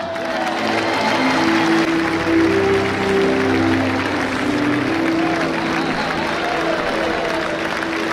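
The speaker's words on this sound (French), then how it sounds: "un tonnerre d'applaudissements, s'il vous plaît, pour Monsieur Thierry Ferrand." A crowd in the Arles arena applauding at the Cocarde d'Or: a broad, sustained wash of clapping from many spectators, with a steady tonal hum and some faint voices mixed in underneath.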